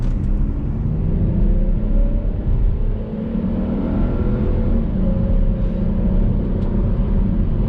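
A 2008 Volvo V70 3.2 six-cylinder petrol estate purrs around town, its engine a steady, smooth low rumble with a faint whir that holds evenly throughout, close and loud, with no voices.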